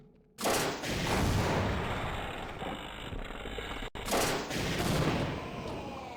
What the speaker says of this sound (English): Let's just shoot rockets at it